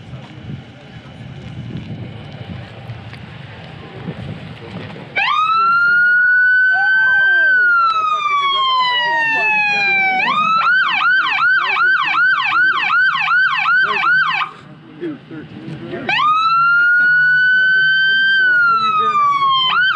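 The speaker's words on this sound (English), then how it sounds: "Go see if you can flip on the siren." Emergency vehicle siren switched on at a racetrack, starting with a rising wail, then a fast yelp pattern and another long wail, loud and close, with wind noise and voices faintly beforehand.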